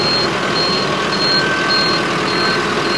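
A Mahindra Ultra 605 tractor engine runs steadily while the tractor reverses, a broad, continuous drone held close with a faint high-pitched reversing beep repeating over it.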